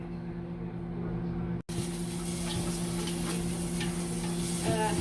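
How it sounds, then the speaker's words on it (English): Bacon fries in a pan to render off its fat, a steady low sizzle with faint ticks and scrapes, briefly cut out once before continuing evenly. "we're going to go ahead and render off the fat of this bacon here"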